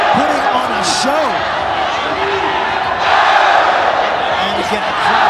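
Crowd noise roars steadily through a Muay Thai bout at a ONE Championship event, with swelling cheers and shouts and a loud commentator's voice talking over it throughout.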